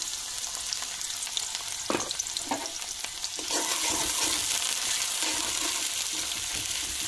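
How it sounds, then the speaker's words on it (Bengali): Onions fry in hot oil in a pot: a constant crackling sizzle with a few stirring scrapes, growing louder and denser partway through as the onions hit the oil. "প্রথমে তেল দিয়ে দিতেছি পাতিলের মধ্যে, পেঁয়াজ দিয়ে দিতেছি,"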